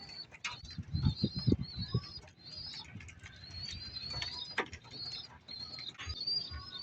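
Racing pigeons coo in soft, low murmurs up close, with scattered clicks, rustles and higher chirping calls around them.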